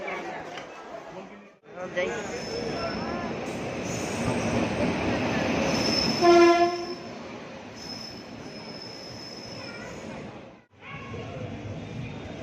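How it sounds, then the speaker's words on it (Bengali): A train pulls into a station with loud rolling wheels and a sharp metallic squeal of braking, a short horn-like tone partway through, while people talk amid the crowd noise. "ট্রেনও প্রায় চলে আসছে"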